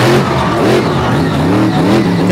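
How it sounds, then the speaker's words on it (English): A monster truck engine roars and revs hard at a 2023 Monster Truck Invasion arena show, loud and continuous with rising and falling throttle surges, the announcer's amplified voice mixed underneath. "Gonna work this track for all that truck's got."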